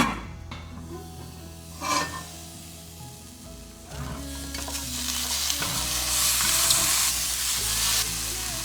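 Broccoli stems and minced ginger sizzle in a hot frying pan, a steady hiss that swells louder midway, with occasional scraping and stirring and no voices.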